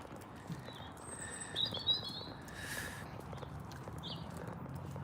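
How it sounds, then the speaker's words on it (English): Birds sing outdoors with faint, thin chirps and short whistled phrases at a distance, over a soft steady background hush. "you can hear all the birds singing, which is lovely"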